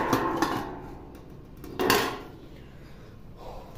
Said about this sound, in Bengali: ঢাকনাটা ডেকে রেখে দেই যাতে গরম থাকে